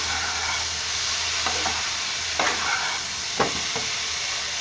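Green banana pieces fry in a pan with a dense, steady sizzling hiss, broken by a few soft scraping stirs, close and loud with no talking.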